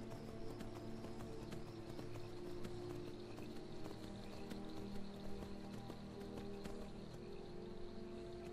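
Faint, steady hoofbeats of a horse in Skyrim Special Edition clip-clop in an even rhythm beneath a low game background hum.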